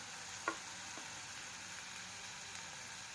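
Ginger is added to a frying egg curry for a rural Aagri-style dish. It gives a steady, close hiss of sizzling oil with a couple of small clinks at the start and no talking.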